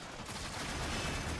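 Rapid dense gunfire from a ceiling-mounted turret in a sci-fi shooter game, a loud continuous burst of automatic shots filling the whole moment with no talk over it.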